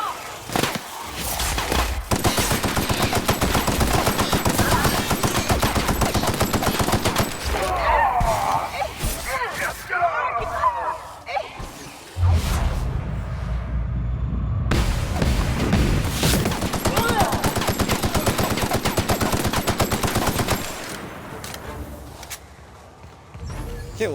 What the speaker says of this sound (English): assault rifle seems to be working just fine